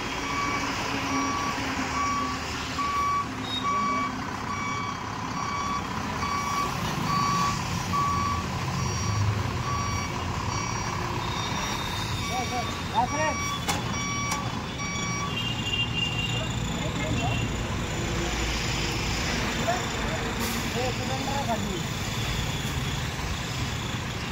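A truck idles with a steady engine rumble while its reversing alarm beeps in an even, repeating rhythm for most of the stretch before dropping away, leaving the engine running alone.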